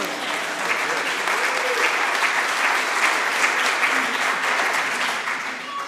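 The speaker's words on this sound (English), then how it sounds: "can we give her another round of applause on that one?" A church congregation claps in sustained applause, a dense, even patter of many hands filling the room for several seconds without speech.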